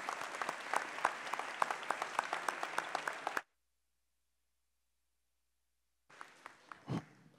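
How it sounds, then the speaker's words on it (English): Applause from students and faculty at a college academic convocation fills a large hall, dense and sustained for several seconds before cutting to silence, then a faint return of crowd noise with a brief voice. "I'd like to give yourself a huge round of applause"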